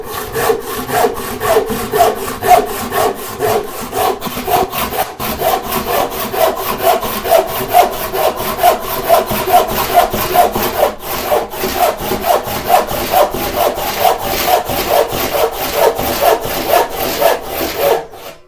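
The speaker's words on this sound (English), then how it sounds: "I'm letting the weight of the saw do the cut." A hand saw cuts wood for a molding plane in steady back-and-forth strokes, rhythmic and close, letting the saw's weight drive each rasping pass with no talk.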